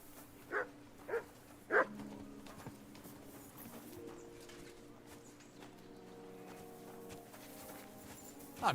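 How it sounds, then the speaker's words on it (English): A dog barks a few times in Kingdom Come Deliverance 2, three short faint barks early on and one more at the end, over quiet game ambience with a low steady hum. "You silly doggy."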